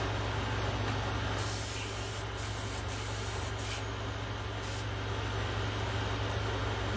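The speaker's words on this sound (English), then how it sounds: "We're going to spot spray some pink in there." Spray gun hissing pink paint onto a latex Jason Voorhees mask in short spot bursts, a steady close airy hiss broken by several brief louder blasts over a constant low hum.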